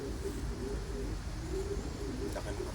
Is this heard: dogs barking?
no